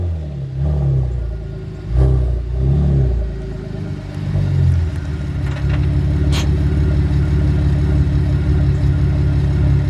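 A Chevrolet Camaro with an engine fault idles and revs gently while reversing into a garage, a close, rumbling mid-pitched engine with a couple of brief throttle swells early on, then a steady low drone.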